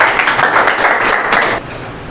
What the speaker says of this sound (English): please welcome him by a huge round of applause